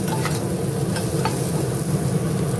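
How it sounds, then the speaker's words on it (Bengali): Onion and garlic fry lightly in a pan while momo broth is being made, giving a steady close sizzle with a few stirring scrapes throughout, no talking. "লাল করে ভাজতে হবে তা না, কাঁচা গন্ধটা চলে গেলেই হবে।"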